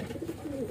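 Racing pigeons coo softly in a brief, low murmur at close range, with no voices present.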